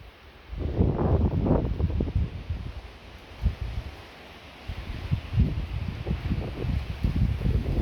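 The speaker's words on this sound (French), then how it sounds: "Vent, je sais pas si ça va beaucoup s'entendre à la vidéo" Gusty wind during a moderate thunderstorm buffets the microphone in low, rumbling surges, swelling and easing over a faint steady hiss.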